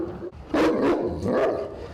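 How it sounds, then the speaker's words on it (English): A Mastiff gives about three deep, throaty barks in quick succession, fairly close and clear with no talking. "Its sheer size and deep throaty bark may be enough to scare off intruders."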